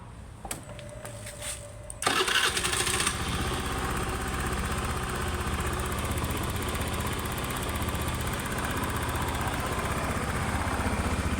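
A 2009–2010 Honda Scoopy-i scooter with a replaced fuel injector cranks briefly with clicks, then starts and settles into a steady, close idle that runs on alone.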